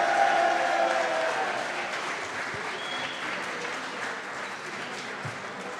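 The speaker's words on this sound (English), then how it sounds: "how about a big round of applause for tonight's contestants?" A studio audience claps steadily for contestants on a live show, a broad even wash of applause that starts strongest and tapers slightly over several seconds, without speech.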